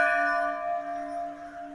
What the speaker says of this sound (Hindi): कोई घंटे बजा रहे हो